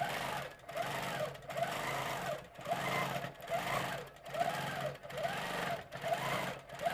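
A sewing machine quilting sashing and borders runs in short, rapid stitching bursts. Each burst has a whirring mechanical rhythm, and brief pauses between them repeat at a regular pace.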